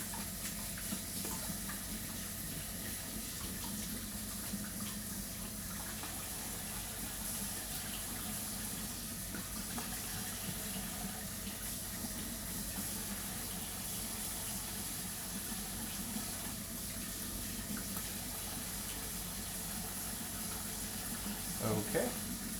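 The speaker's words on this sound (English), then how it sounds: "Wash my hands once more." Hands are washed under a running tap, making a faint, continuous wash of water noise that stays even for over twenty seconds.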